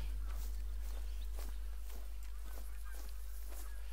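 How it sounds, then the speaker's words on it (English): Geese honk repeatedly at a distance in the video game The Hunter: Call of the Wild, over a steady low background hum, with soft crunching footsteps running through the clip. "So hearing geese everywhere, it's a good time."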